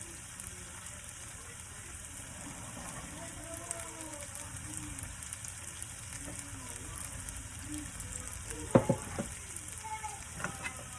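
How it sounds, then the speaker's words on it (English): Tomato and onions sizzle in a frying pan over medium heat, a soft, steady crackle throughout with a small clatter near the end, no voices. "So then we're gonna go ahead and let the tomato cook out."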